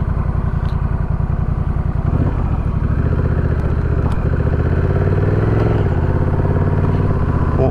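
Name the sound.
Honda Rebel 1100 motorcycle engine riding off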